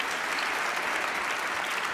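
An audience claps for a young girl reciting at a religious gathering, a dense, steady wash of applause filling the short moment without pause, fairly loud and close.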